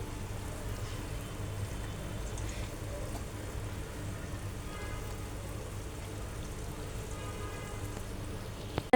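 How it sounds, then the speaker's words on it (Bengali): Poa pitha cakes made from flour, semolina and egg fry in oil with a steady, dense, rain-like crackle and sizzle throughout, fairly soft. "তো এই তো আমি এভাবে বাকি পিঠাগুলো ভেজে নেব।"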